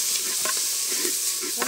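Ground cinnamon and clove paste sizzles with sautéed onions in a pan, frying for a country chicken curry, with a steady hiss broken by a few soft stirring scrapes.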